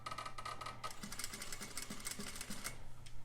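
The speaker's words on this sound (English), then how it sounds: "Put the presser foot down, needle down, and we're going to start with the back stitching," An overlock sewing machine back stitching through fabric, a steady close rapid mechanical whir with fast regular needle ticks and no talking.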